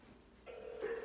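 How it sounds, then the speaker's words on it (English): An incoming phone call on a live call-in show line: a short electronic ringing tone starts partway through and grows slightly louder. No voices. "we got a phone call coming in here"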